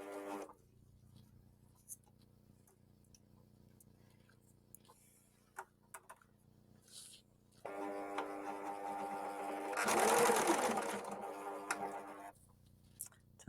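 A Husqvarna Viking S100 overlock sewing machine stitches elastic with a rapid mechanical whir. It starts near 8 seconds after quiet handling noises, swells loudest around 10 seconds, then runs steadily until it stops near 12.5 seconds.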